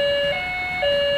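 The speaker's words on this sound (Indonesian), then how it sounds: "Nah, ini ada suara ambulan nih." A toy steering wheel plays its electronic ambulance siren: a bright two-tone warble that alternates pitch, loud and close, with no voices.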